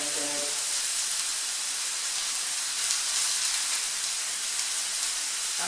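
Skirt or flat iron steak sizzles in a hot pan, a steady, even hiss at moderate volume with no voices over it.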